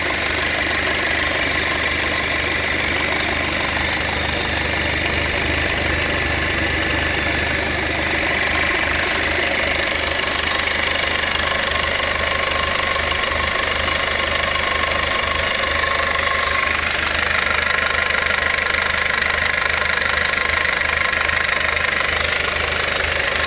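A Quanchai diesel engine, a used unit with a 98 bore, idles steadily with a constant knocking, vibrating rumble that runs unbroken and fairly loud throughout, with no voices over it.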